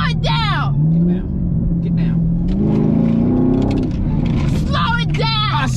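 A car engine revs and surges as the car speeds past a 45 limit, throaty rumble rising and falling while a woman's loud, animated voice talks over it throughout.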